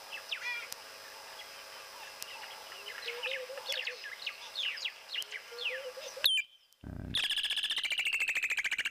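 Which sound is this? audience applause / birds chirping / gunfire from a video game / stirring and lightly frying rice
birds chirping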